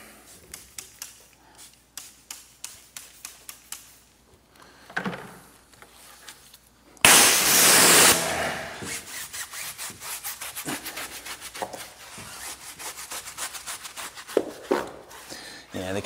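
Tires on a car being scrubbed by hand during a wash, a run of brisk rubbing strokes with a louder burst of spray-like hiss partway through, close and continuous.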